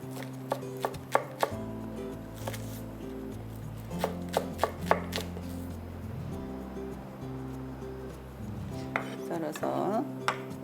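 Green onions are finely chopped with a knife on a board: a quick, irregular series of crisp taps with a few louder knocks, close up and alone.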